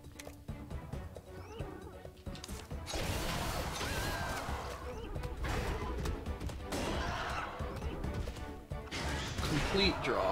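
Rocks are smashed with a hammer in Monster Hunter Stories 2, heavy crunching impacts and clattering debris piling up loud and dense over a busy game soundtrack, with a voice talking intermittently.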